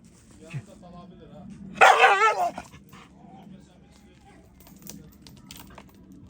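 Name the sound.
dog barking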